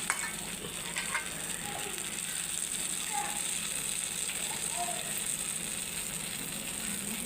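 Mustard seeds, cumin and dried red chillies sizzle steadily in hot oil while gongura roti pachadi is made, with a continuous bright hiss and a few faint pops and stirring clinks throughout.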